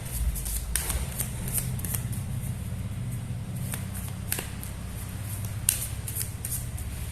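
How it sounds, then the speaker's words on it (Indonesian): A deck of cards being shuffled by hand, a steady soft riffling and flicking close up that runs throughout, with a few sharper snaps along the way. "Ini sambil saya kocok ya kartunya."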